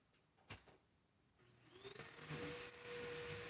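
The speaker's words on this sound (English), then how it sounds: "apologies if you guys can hear the vacuum" Inside a house, a vacuum cleaner starts up in another room and gets louder as its steady motor whine builds. It stays fairly faint and muffled, and no one speaks.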